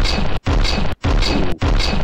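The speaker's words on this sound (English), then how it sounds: "the sound of this cannon is so good" Heavy cannon shots in the naval combat game From the Depths, four loud booming blasts in quick succession separated by brief silences, each a dense, roaring burst.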